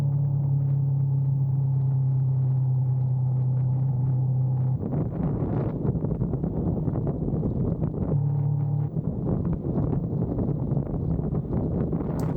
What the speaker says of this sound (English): They do like their rumble strips on this road, which is good, because you know when there's a tight corner coming.